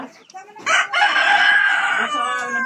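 Chickens are kept by a Filipino owner, and one rooster gives a loud, close crow after a few soft clucks, with hens faintly clucking in the background.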